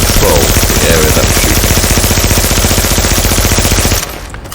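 Sustained, very loud submachine gun fire in the shooter game The Division, a rapid continuous stream of shots that stops abruptly near the end, with faint voice chatter underneath.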